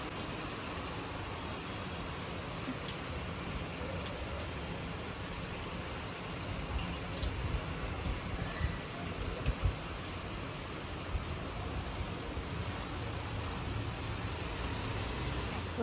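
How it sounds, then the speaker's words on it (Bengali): Heavy evening rain falling outside, a steady broadband hiss that holds constant and swells slightly midway, with faint scattered knocks and no talk. "ভালো জোরে বৃষ্টি হচ্ছে।"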